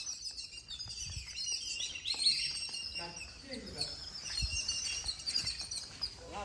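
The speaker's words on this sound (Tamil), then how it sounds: "ஏதாவது பூச்சி போட்டு வந்தால் தான் இந்த குருவிங்க இப்படி சத்தம் போடுங்கன்னு சொல்லுவாங்க" Sparrows chirp busily outdoors in a high, scattered twittering of short calls that overlap and flutter throughout. The chirps are fairly soft overall, with faint voices and background sounds underneath.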